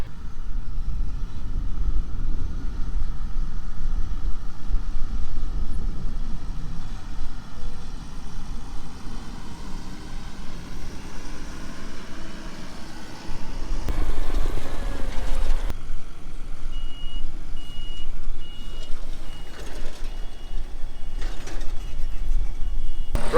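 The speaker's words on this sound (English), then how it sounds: "driving the tractor today on the new Horsch" A tractor pulls a new Horsch seed drill across a field while drilling annual ryegrass, giving a loud, steady engine drone and mechanical rumble that runs unbroken throughout with no talking.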